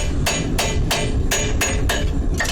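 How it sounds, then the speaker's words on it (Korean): A farrier working in a stable hammers a metal horseshoe into shape, with about seven sharp, evenly spaced ringing strikes close by. "망치로 다듬고 맞춰보고 또다시 다듬고 맞춰보고"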